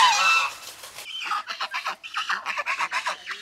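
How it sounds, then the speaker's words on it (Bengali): Geese and ducks at an ashram honk and cackle in a rapid series of close, loud calls, with a burst of squawking at the start. "কত পরিমাণে হাঁস, রাজহাঁস রয়েছে,"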